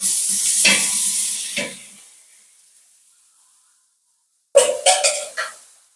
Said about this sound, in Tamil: இந்த பூண்டோட பச்சை வாசனை போகிற வரைக்கும் நல்லா வதக்கி விட்டுக்கலாம்